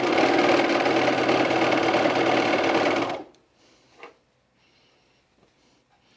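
A sewing machine runs steadily and loud for about three seconds while hemming the petal hem of pajama bottoms, then stops abruptly, leaving faint handling clicks and near silence.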